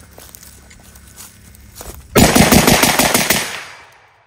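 Close, loud M1 Garand rifle fire at a range: after a stretch of quieter handling noise, a sharp burst of rapid shots with the metallic ping of the ejected en-bloc clip, then a decaying ring-out.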